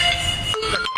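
A phone ringtone plays a brief electronic melody of bright tones, partly masked by background noise and cut short near the end.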